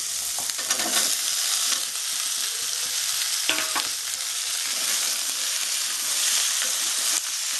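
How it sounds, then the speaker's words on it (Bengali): Thick-cut onions and vegetable stalks frying in hot oil for a Bengali rui fish curry, a steady close sizzle with a few stirring scrapes, no talk. "পেঁয়াজগুলো একটু নাড়াচাড়া করে নিয়ে আমি ডাঁটাগুলো দিয়ে দেবো"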